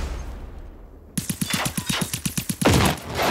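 Automatic gunfire in the video game Generation Zero, a rapid burst of about a dozen loud, evenly spaced shots starting abruptly after a quiet moment, ending in a louder blast with no talking.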